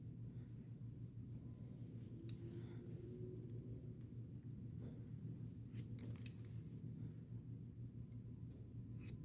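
Hair being cut with 6.5 inch shears in a salon setting: soft, faint snips and clicks spread through the stretch over a low steady hum, with no talking.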